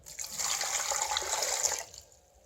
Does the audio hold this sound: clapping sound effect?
no